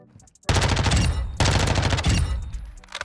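SMG fire in Modern Warfare 2, two loud sustained full-auto bursts of rapid shots, close and dense, with a short break between them and a fading tail at the end.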